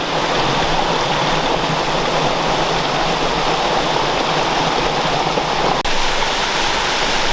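A high-flowing waterfall on the Big Piney in the Ozarks roars steadily and loudly, a dense, unbroken rush of water with no voices.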